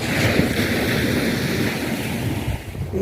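Steady sea surf and gusting wind at a beach, a continuous broad wash of waves with wind buffeting the microphone, fairly loud and unbroken, no voices.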